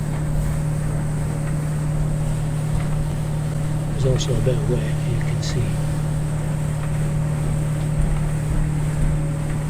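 A boat runs at 10 knots or less through rough water in the Sound of Islay near Jura, giving a steady engine drone with wind noise while someone talks over it.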